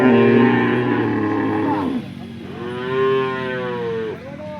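A cow at a Porbandar cattle sale gives a long, loud moo, then a second drawn-out call follows after a brief pause, close by with little else around it.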